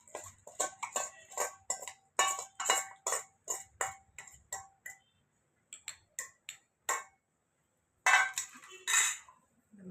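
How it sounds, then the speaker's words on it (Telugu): Roasted coriander seeds, cumin and dried chillies pounded in a stone mortar, producing sharp rhythmic knocks in quick bursts with brief pauses, close and clear with no talk. "ఇప్పుడు దీన్ని రోట్లో తొక్కుకుందాం అండి"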